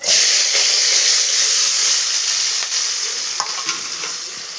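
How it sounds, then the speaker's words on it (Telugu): Onions, green chilies and curry leaves sizzle loudly in a hot pan, a dense continuous hiss and crackle that slowly eases, with a few soft stirring clicks. No one talks over it. "బాగా కలిపేసుకొని గోల్డెన్ బ్రౌన్ కలర్ వచ్చేంత వరకు కాస్త వేపుకుందాం."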